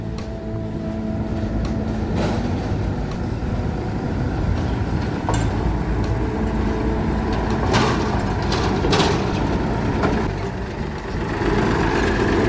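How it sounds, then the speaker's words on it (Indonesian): A Hokuriku diesel locomotive, number 7, runs on a 1067 mm sugar mill railway at PG Semboro, its engine a steady, loud, close rumble that holds throughout with no talking. "sekarang giliran lokomotif diesel Hokuriku nomor 7 yang keluar"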